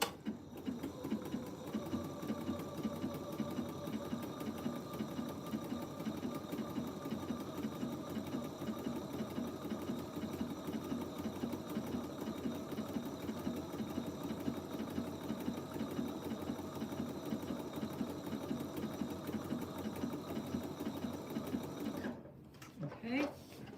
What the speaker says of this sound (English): I'm gonna sew one length across that. I'm gonna use that triple stitch to do it again